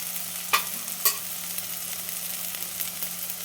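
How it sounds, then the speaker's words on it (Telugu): Turmeric, cumin and coriander powder frying in a pan with onions make a soft, even sizzle over a low electrical hum, with two sharp utensil clicks early on. "ధనియాల పొడి వేసి ఒక్కసారి వేయించాలి"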